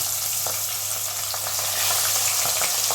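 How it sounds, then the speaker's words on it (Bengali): Fish heads sizzle and spit in very hot oil in a pan, a loud steady frying hiss with scattered pops and crackles, close up and with no one speaking. "এইভাবে আমি আমার দুটো মাথাই ভেজে নেব।"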